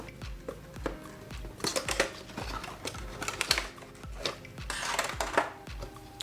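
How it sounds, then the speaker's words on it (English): A knife slices open a cardboard box holding an Evutec Aergo ballistic nylon iPhone 11 Pro Max case, a close series of quiet scraping, ticking cuts and taps in an uneven rhythm, with no talking. "we'll just cut the box open here"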